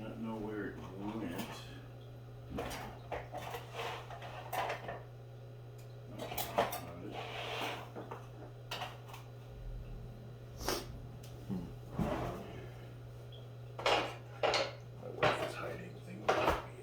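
Kitchen utensils rattle and clink as someone rummages through a drawer or tub for a knife, with irregular metallic clatters and knocks over a steady low hum and some breathing, close by.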